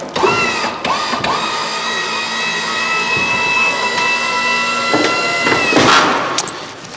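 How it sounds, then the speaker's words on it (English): Wheelchair platform lift rising inside a vehicle, a steady mechanical whine and motor hum running almost throughout, with a few clicks and clunks at the start and near the end. "you can just bring your wheelchair lifter up"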